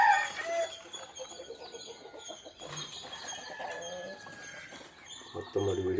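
A black country chicken clucks near and loud among other fowl and birds in a farmyard at feeding time, with several short bursts of calls and a deeper cackle at the end.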